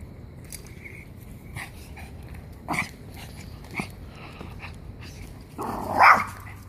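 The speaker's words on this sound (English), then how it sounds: "Quit your barking." Dogs on a walk outdoors give several short barks and yips scattered through the clip, the loudest burst near the end, over steady background noise.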